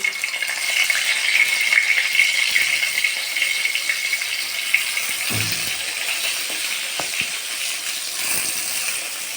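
Salt and turmeric coated eggplant slices frying in a shallow pan with little oil, a loud steady sizzle with occasional soft clatters as pieces are laid in, and no talk.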